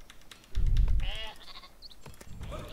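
A sheep in the video game Northgard lets out a short wavering bleat, clear and fairly close, following a low thump and with faint game sounds around it.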